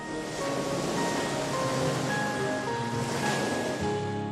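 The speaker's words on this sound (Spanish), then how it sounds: "se producen olas gigantescas que reciben el nombre de tsunamis" Ocean surf rolling in a continuous roar with slow swells in loudness, alongside faint sustained tonal lines, no voices; presented as tsunami waves.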